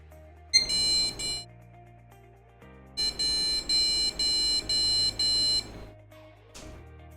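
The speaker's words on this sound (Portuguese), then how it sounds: "Ele deu vários bips, 10 bips." A PC with an RTX 2060 Super graphics card showing no image gives error beeps, one long tone followed by a run of short, evenly spaced loud beeps from close by, with no talk.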